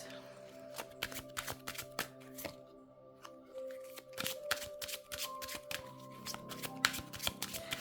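Tarot cards shuffled and drawn by hand at close range, a rapid run of crisp riffling and snapping card flicks in irregular bursts, with no voices.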